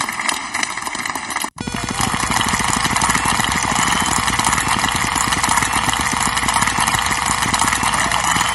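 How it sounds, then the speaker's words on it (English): The Big Wheel spins in The Price Is Right PC video game, giving a fast, steady run of ticking clicks under a loud, sustained tonal backdrop after a brief break near the start. "Step on up there and spin that wheel."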